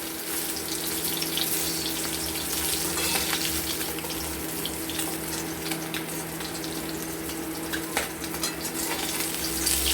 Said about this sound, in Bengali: লেজাগুলো আমাদের ভাজা হয়ে গেছে।